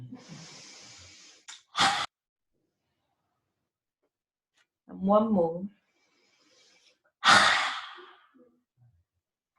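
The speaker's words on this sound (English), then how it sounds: "And another full breath in." Deep breaths drawn in and let out, with long pauses between, and a voice briefly speaking partway through.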